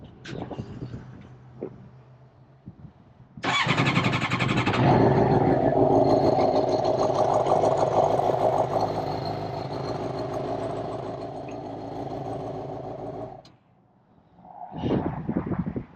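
A Suzuki GSXR750 motorcycle with a replaced, holed valve cover cranks briefly, then fires into a loud, rough close-up idle that runs steadily for about ten seconds before cutting off abruptly.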